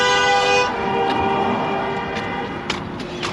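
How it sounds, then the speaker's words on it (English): On a Los Angeles street, a car horn blares in a loud sustained honk, then cuts off into steady traffic rumble with a few faint clicks. "What is this guy honking at?"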